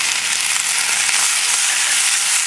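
Lamb shanks and tomato paste browning in a pan give a loud, bright, continuous sizzle with no break and no talk.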